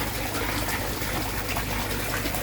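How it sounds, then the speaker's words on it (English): Aquarium water trickling while an air pump and air stone run, giving a continuous, even hiss of flowing and bubbling water that never pauses, close by and moderately quiet, with no voices. "Trickling's going and the pump's running, and that air stone is working a treat."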